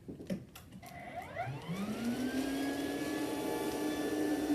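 A Rainbow vacuum cleaner is switched on with a few clicks, and its motor whines up in pitch into a loud steady running drone that holds to the end.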